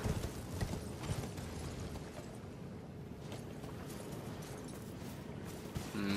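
A horse's hooves gallop across open ground in the Elden Ring video game, giving a steady, continuous clip-clop rhythm under a dense, rumbling game soundscape, with no talking.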